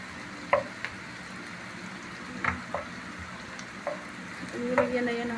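Beef with broccoli frying in a pan with garlic, a steady low sizzle broken by occasional sharp clinks and stirring scrapes, close and moderately quiet.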